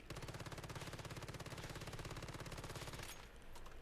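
Rapid automatic gunfire in the video game Once Human as a full magazine is emptied, a fast even stream of loud close shots that cuts off after about three seconds into a brief tail.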